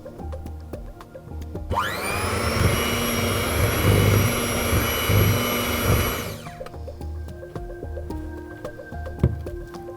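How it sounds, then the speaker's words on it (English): Electric hand whisk beating cream cheese frosting in a bowl, a loud steady motor whine that starts abruptly, runs for about five seconds and then cuts off, with faint clatter before and after. "grab your electric whisk and give this a couple of minutes until it's nice and fluffy"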